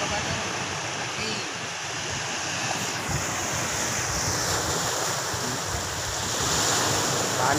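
Strong sea waves breaking on a shore, a continuous loud roar of surf with wind buffeting the microphone, swelling toward the end; faint voices may sit under the noise.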